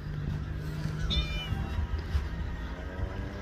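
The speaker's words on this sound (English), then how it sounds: "my kitty cat" A pet cat meows once, a short rising cry, faintly over a steady low mechanical hum and room noise.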